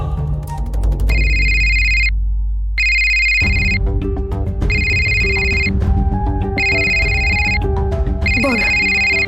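A telephone ringtone for an incoming call plays loud and close, an electronic repeating melody in bursts with short gaps, over a low musical backdrop and faint voices.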